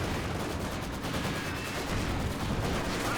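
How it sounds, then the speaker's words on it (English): Sustained machine gun fire and overlapping gunshots in a Company of Heroes 2 battle, a dense, continuous rattle that stays loud and close throughout, with no voices. "MG does take a bit of fire there."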